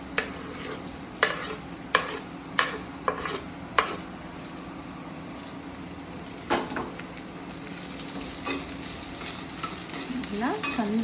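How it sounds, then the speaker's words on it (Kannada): Finely chopped onion frying in a pan, with a steady close sizzle and a run of sharp spoon scrapes and taps against the pan at the start, then a few more later. "ಈ ಸಣ್ಣದಾಗಿ ಕಟ್ ಮಾಡ್ಕೊಂಡಿರೋ ಆನಿಯನ್ನ ಇದಕ್ಕೆ ಹಾಕೊಳ್ತಾ ಇದ್ದೀನಿ"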